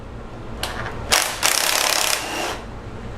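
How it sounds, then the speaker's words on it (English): A ratchet fitted with a 10mm socket clicks as it loosens a bracket nut on a Jeep 2.4 Multiair engine, a close, brief run of rapid clicks lasting about a second. "One nut on top with 10mm socket."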